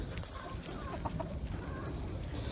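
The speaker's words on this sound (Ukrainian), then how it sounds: "качкам і курям якраз їдять" Ducks and chickens feed, clucking and chattering continuously close by, with a few higher calls over a busy, noisy farmyard background.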